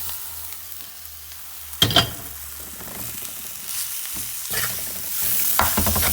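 Coconut stirred into a sweet mixture in a pan, giving a soft scraping and faint sizzle with a couple of sharper clatters of the spoon against the pan, moderately close and without talk.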